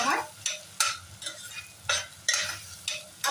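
Spices frying in a pan while being stirred for chana masala, close rhythmic scraping strokes about every half second over a steady sizzle.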